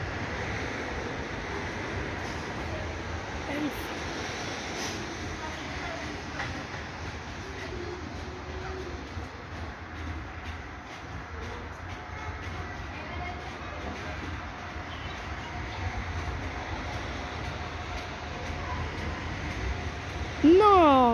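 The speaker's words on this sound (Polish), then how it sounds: "No, jedzie EN76 Elf." A Polregio EN76 Elf electric multiple unit pulls into Toruń Główny station as a steady low rumble and broadband rolling noise, heard from the platform at moderate distance, with a brief brighter sound rising near the end.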